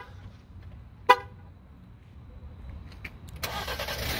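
A Jeep Wrangler started by remote start: a short horn chirp sounds close by, then after a pause the engine cranks and catches into a steady idle, with no one talking.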